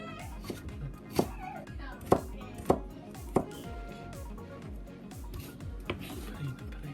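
A knife chops vegetables into very thin strips on a cutting board, giving several sharp, irregularly spaced taps over a low background with faint talking.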